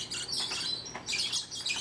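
Young hand-fed Bourke's parakeets give continuous high, thin chirps and peeping calls, close and fairly soft, with no talking.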